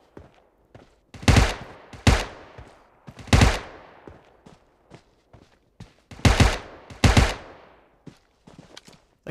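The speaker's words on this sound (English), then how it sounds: "What are you trying to shoot me with, a damn shotgun?" Gunfire in PUBG Mobile, a series of sharp, loud single shots spaced irregularly with a pair close together near the end, echoing briefly in between, with no talk.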